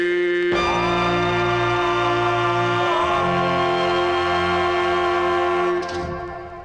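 Closing of a 1960 doo-wop record, with sustained vocal harmonies and backing instruments playing loud and full before fading at the end.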